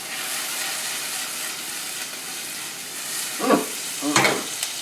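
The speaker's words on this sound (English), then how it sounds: "now I'm going to add some garlic to my onions" Garlic frying with onions in a pan for a merguez tomato sauce, a soft continuous sizzle with two louder stirring scrapes near the end, no voices.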